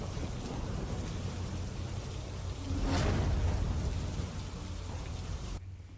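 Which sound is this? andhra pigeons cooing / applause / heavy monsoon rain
heavy monsoon rain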